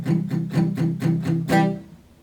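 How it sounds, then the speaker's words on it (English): Six dampened, thumpy acoustic guitar strums in an even rhythm, the last one left to ring a little longer. "we're just going to be doing palm muted down strums"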